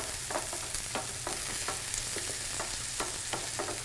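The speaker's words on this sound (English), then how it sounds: "We'll give that another stir." Risotto with frozen peas being stirred in a pan, a spoon scraping through the grains in repeated soft strokes over a faint steady sizzle, close up with no talking.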